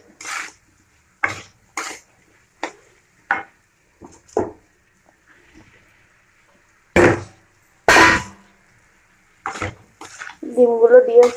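Water splashes into a pan of egg and potato curry in one short pour near the end, following stretches of talking with scattered kitchen clatter.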